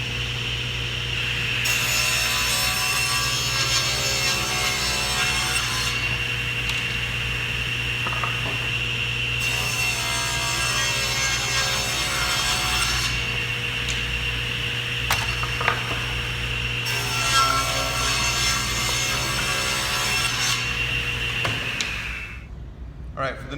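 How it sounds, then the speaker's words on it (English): A saw rips wooden boards lengthwise, a loud steady whine that swells into three long cutting passes with short lulls between them, then cuts off abruptly at the end. "now I'm going to just rip all 3 of these boards down"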